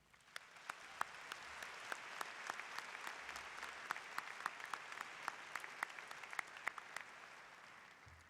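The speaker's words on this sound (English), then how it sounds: "Please join me in applause for these dedicated teachers." A large audience at a 2017 high school graduation ceremony applauds the teachers, a steady, fairly distant wash of clapping with sharp individual claps standing out throughout.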